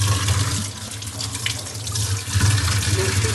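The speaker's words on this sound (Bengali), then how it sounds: "একটু পানি বোতলগুলো ধুই, একটু পানি" A tap runs water to rinse bottles, producing a steady, close splashing gush into a sink that continues throughout, with no voices.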